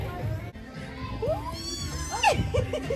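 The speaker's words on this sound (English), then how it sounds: "Oh, all the kitties." Cats meowing at home amid a busy family scene, with a couple of short rising mewls in the middle and end, mixed with children's voices and household chatter.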